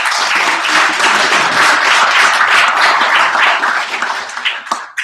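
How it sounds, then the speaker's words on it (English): Applause from a lecture audience at a talk on a proposed New England marine national monument, dense steady clapping that fills the room and fades out toward the end. "let's give her a round of applause"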